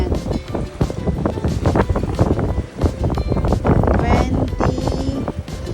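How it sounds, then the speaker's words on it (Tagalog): Strong wind gusts buffet the microphone at an outdoor fishing spot in stormy weather, a steady broadband rush under continuous nearby talk. "Kasi yung sama-sama ng panahon, tapos ang lakas ng hangin."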